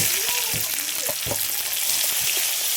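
Chopped tomatoes sizzle and fry in a pan with a little nigella seed, a steady broadband hiss with a few soft clinks and stirring scrapes throughout.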